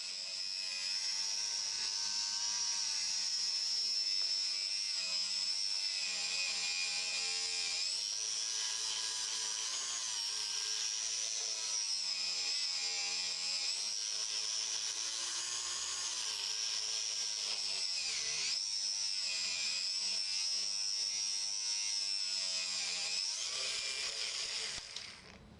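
RC car front rubber tyres spin against sandpaper to round their edges, a continuous high whining grind from the motor and abrasive that shifts slightly in pitch as the car tilts side to side, close and steady.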